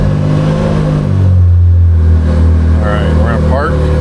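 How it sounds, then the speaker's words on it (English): A Can-Am Maverick R side-by-side engine fires up after a magnet replacement, settling into a loud, close idle with a deep harmonic rumble that steps down in pitch, and a brief voice near the end. "Okay, let's start her up."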